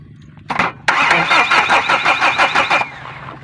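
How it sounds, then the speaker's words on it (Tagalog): A Hyundai Starex van wired directly to start gives a brief crank, then a sharp rapid rhythmic cranking chatter for about two seconds before the engine catches and settles into a low idle, close and loud. "Ngayon, titestingin ko kung i-start sa direct."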